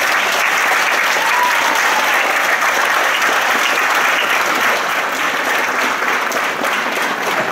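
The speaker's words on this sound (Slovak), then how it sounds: "Ešte raz by som poprosil potlesk." Audience applause at a folk festival honoring a folklore ensemble, loud, dense and steady clapping from a large crowd throughout.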